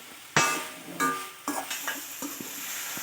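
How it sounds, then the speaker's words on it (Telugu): Ivy gourd (dondakaya) pieces frying in a pan as they are stirred, with scraping and clinking of the utensil against the pan over a soft, steady sizzle. "ఇలా మధ్య మధ్యలో బాగా వేయించుకుంటూ ఉండాలి"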